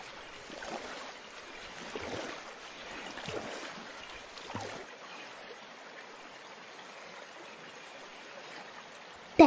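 A small boat gliding through water among water lilies, with gentle swishes and low lapping that rise and fall at a soft, fairly close level, ending in a brief sharp knock.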